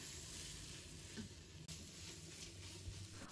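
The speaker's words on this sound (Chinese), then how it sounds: "把胡萝卜炒香炒熟" Carrots stir-fried in a wok with garlic, ginger, scallion and red chili, a steady soft sizzle with faint stirring scrapes running throughout, fairly quiet and with no voice.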